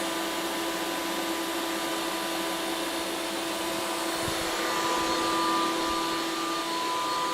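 A Ninja Creami Deluxe churning strawberry lemonade slushy from drink mix gives a steady, loud motorized whir with a faint tonal hum, continuous throughout and near, with no talking.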